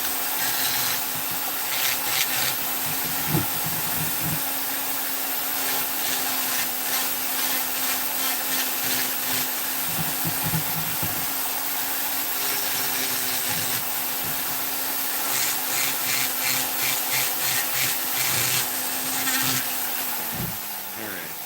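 A Vevor flex shaft rotary tool carves a Knights Templar figure in wood, its motor whine steady throughout while the burr grinds and rasps in bursts of scratchy contact, close and fairly loud.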